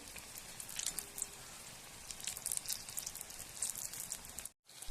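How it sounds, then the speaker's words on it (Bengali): Vegetable-filled snacks frying in oil over low heat give off a soft, steady crackling sizzle with scattered sharper pops, briefly cutting out near the end. "কিছুটা সময় নিয়ে লো আওয়াজে ভেজে নিতে হবে।"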